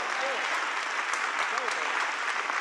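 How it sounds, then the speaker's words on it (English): Steady crowd applause at a JD Vance political rally in Charlotte, North Carolina, dense clapping with a few brief cheers running through the whole stretch. "Give him a round of applause."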